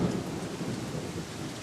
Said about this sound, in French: Il y a une tempête et un vent très fort.